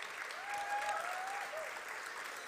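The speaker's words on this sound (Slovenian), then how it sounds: "En velik aplavz vsem skupaj za vzpodbudo in en dober nastop." Steady applause from a festival finale audience, a continuous dense wash of many hands clapping for young performers on stage, with a faint voice briefly audible over it.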